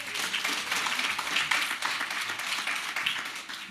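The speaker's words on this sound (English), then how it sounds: "Applauding yourself, well done, very good." A steady round of hand clapping greets a panelist at a Fife College discussion event, brisk and continuous at moderate volume, a crowd of hands in a room with no speech over it.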